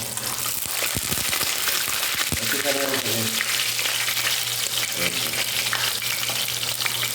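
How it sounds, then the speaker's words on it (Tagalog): Loud continuous sizzle of eggplant frying in oil with spattering crackles and some stirring clatter, close up and steady for several seconds. "Unahin ko yung pritong talong"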